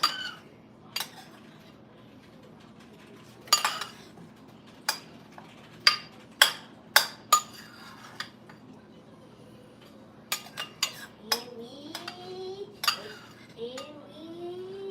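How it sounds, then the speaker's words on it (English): A utensil strikes a pan while choriqueso is chopped, giving sharp, irregular metallic clinks and taps spaced across the stretch, with faint background hum and a few quiet vocal sounds. "I'm just chopping it up a little bit so I can get a little more spread on it."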